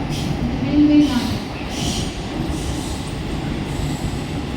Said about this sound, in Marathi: Fast train is passing.